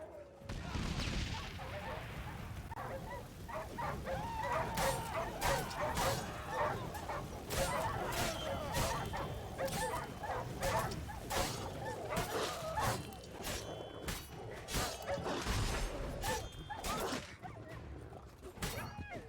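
Dogs bark, yip and growl in a fast, chaotic fight during Witcher 3 combat, with dense repeated barks and sharp hits throughout, mostly close and loud.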